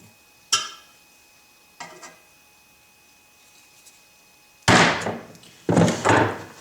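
An awl is driven into sheet-metal stovepipe on a homemade wood stove: two light, sharp taps, a pause, then two louder, ringing clanks close by, with no talking.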